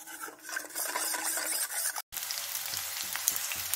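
A kadhi bhindi mixture of okra, sugar and salt is stirred in a pan over heat, giving a steady scraping sizzle with a brief pause midway, no voices.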